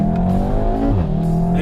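A quick race car driven at speed on the Silverstone track during a 2018 speed festival. Its engine drones loud and close from inside the car, holding a steady tone and then shifting pitch as it changes speed.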